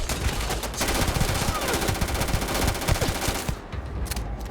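Rapid automatic gunfire in the video game Starfield, heard as close, rattling shots fired in quick succession. The fire runs almost nonstop, then eases off briefly near the end.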